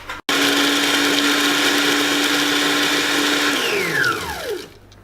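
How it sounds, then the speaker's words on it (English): A blender whirs loudly and steadily as it blends Oreo cookies, its motor holding a constant pitch for several seconds before winding down as it is switched off. "Now they've been blended, we need to take them out again and re-blend them"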